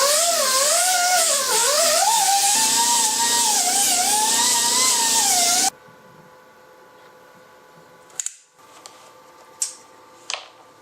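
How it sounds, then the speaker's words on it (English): Power sander working metal bars while restoring an LTW wing: a loud, wavering electric whine runs steadily for about six seconds, then cuts off, leaving a quiet room with a few sharp clicks and scrapes. "now we are going to sand the metal bars down"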